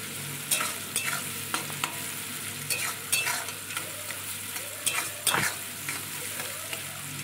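Onions frying in oil with turmeric and a pinch of salt, a steady bright sizzle broken by regular scraping and stirring strokes of a spoon against the pan, close and clear with no talking.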